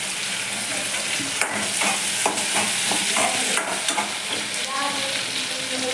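Onions, curry leaves, green chillies and tomato sizzle in a pan for a brinjal tamarind curry. Steady frying hiss runs throughout, broken by repeated scraping stirs of a spoon against the pan, with no talking.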